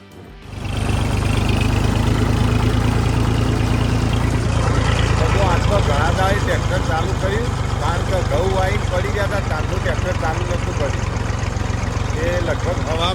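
A loud tractor engine runs steadily throughout with a low, continuous rumble, while people talk over it close by.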